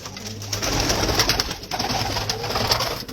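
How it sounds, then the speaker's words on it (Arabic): Domestic pigeons coo softly and steadily in a loft, a continuous close murmur of bird calls with no talking. "فرجوا حمام الكابتن حسين الونداوي"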